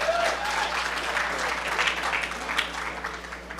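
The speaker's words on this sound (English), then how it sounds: "Applause, please." Sustained audience applause fills a conference hall at a hacker event, dense steady clapping from a large crowd throughout with a brief whistle at the start.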